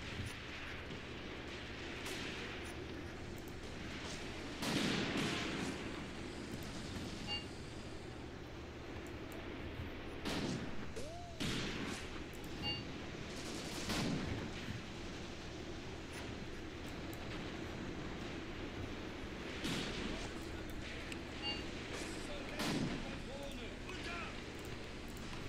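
Gunfire and artillery in the tank battle game Graviteam Tactics: Mius Front, with scattered shots and heavier blasts booming at intervals over a steady rumbling battle din, while a voice talks throughout.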